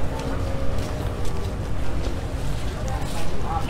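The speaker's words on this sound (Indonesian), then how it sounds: "banyak sekali speedboat" Speedboats on the Musi River make a steady roaring wash of engine and water noise, close and continuous with wind buffeting the microphone.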